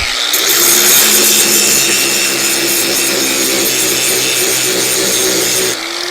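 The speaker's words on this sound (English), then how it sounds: "I'm going to get the grinder out, and I'm going to clean this up" An angle grinder cleans a metal surface before welding, giving a loud, steady, high whine with a rough scraping edge that runs continuously and then stops abruptly near the end.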